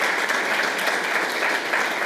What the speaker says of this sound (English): Please let me ask for a round of applause for our speakers